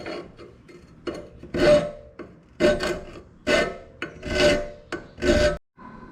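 Grinding down a tack weld on an MBRP exhaust for a 2021 Can-Am Outlander XMR 850, a series of about six harsh rasping bursts, close and loud, separated by brief pauses.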